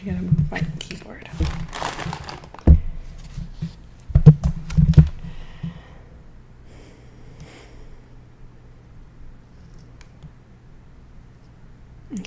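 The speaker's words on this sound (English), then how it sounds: "I gotta move my keyboard." A computer keyboard is shifted on a desk during a statistics lecture stream, producing a few scattered bumps, clicks and rustles close to the mic before it settles into a quiet hum.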